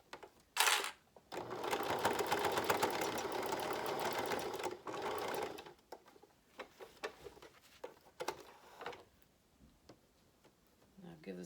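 A sewing machine stitches a pleated fabric face mask in a fast, steady whirring run of about four seconds, then stops and leaves quieter ticks, taps and handling noises, with a person talking at times.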